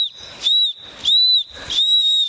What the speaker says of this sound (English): You blow it right away when you cannot see adults.